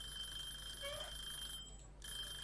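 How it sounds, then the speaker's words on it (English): A kitchen timer alarm rings in the Cooking Simulator video game, a faint, thin electronic tone running steadily through the clip with no one speaking. "Timer, shut up! Please shut up!"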